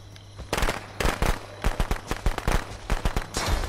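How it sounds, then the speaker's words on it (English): In the Friday the 13th video game, firecrackers go off in a rapid, irregular string of sharp cracks and pops, loud and near, over a constant low hum. "I'm doing firecrackers"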